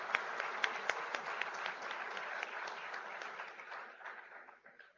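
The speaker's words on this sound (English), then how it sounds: "Let's give Jeremy a huge round of applause." Audience at a university medical department awards ceremony applauds, a fairly soft, steady wash of many hands clapping that slowly fades out.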